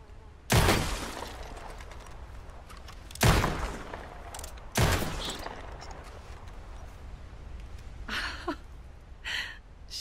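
Rifle shots ring out in the Red Dead Redemption 2 video game, three loud separate reports spaced a couple of seconds apart, each with a trailing echo, followed later by fainter clinks and short game sounds.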